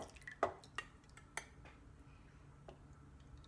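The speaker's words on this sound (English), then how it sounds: "we're just going to pour the oil into the strainer" Herbal salve oil of violet and chickweed drips through a small tea strainer into a jar, giving a few faint, scattered drips and light clinks against a quiet background.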